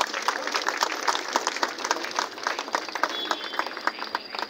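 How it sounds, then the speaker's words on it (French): Steady applause from mourners at a funeral, a dense, continuous patter of many hands clapping at moderate loudness with no voices standing out. "de bien vouloir applaudir pour celles que nous sommes en train de pleurer en ces jours"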